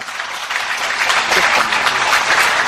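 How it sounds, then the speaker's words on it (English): Audience applause at a Buddhist temple centenary anniversary event, a loud, dense round of clapping from a large crowd that swells and holds steady, with a hint of voices beneath. "Once again, give them a round of applause."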